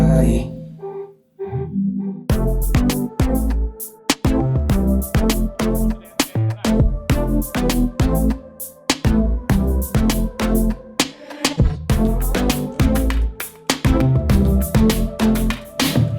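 An upbeat dancehall-style groove with punchy, syncopated drum hits and bass, instrumental only, playing steadily and loudly after a brief quieter intro.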